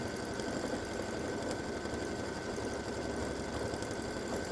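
A quilting machine stitching an edge-to-edge double loop design at a speed setting of 700, giving a steady, dense mechanical whir that holds evenly throughout, close and unbroken.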